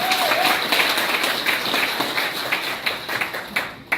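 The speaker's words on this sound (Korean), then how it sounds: "박수 부탁드립니다." Audience applause at a Korean political gathering for a standing guest, a journalist, dense steady clapping throughout with a faint voice at the start.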